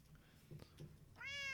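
A video game cat gives a single bright, clear meow at the end, after a short stretch of quiet background game sound.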